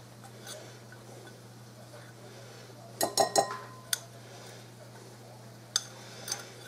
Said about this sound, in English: Get my butter and flour mixed up and in this bowl.